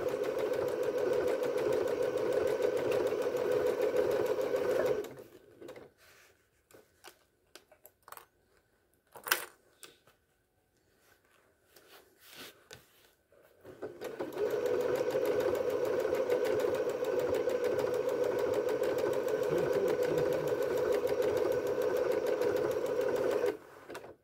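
A sewing machine stitches fabric with a steady close whirring hum, pauses for several seconds with faint clicks and handling noises, then runs again at the same pace until it stops as the bobbin empties.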